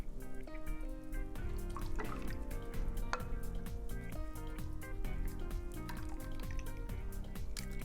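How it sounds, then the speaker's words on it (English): Light custard is ladled into ramekins in a home kitchen, producing soft pouring and dripping sounds that run continuously beneath steady background music. "we're gonna go ahead and ladle these into the ramekins."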